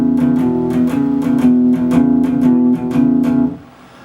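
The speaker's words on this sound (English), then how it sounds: "If I just play it without the palm muting," An electric guitar plays a blues rhythm riff without palm muting, the strummed chords ringing open in a steady, repeating pattern for about three and a half seconds before the sound drops off.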